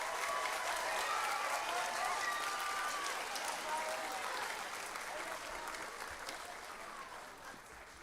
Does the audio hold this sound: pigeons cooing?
no